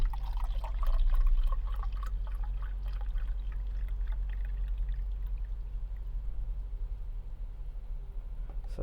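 Liquid pours steadily in a campervan kitchen while mixed grains are cooked, a soft continuous trickling stream with a brief louder gush near the start, faint and close, no talk.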